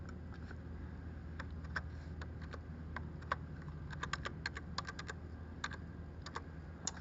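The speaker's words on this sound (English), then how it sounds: "So because I have a password, I'm going to type it in." A password is typed on a computer keyboard, with quiet, close key clicks in irregular bursts and quicker runs of taps toward the end over a low steady hum.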